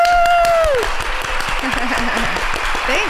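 Audience applause and cheering for a guest on a talk show, steady clapping with a whoop at the start and voices speaking over the crowd as it continues.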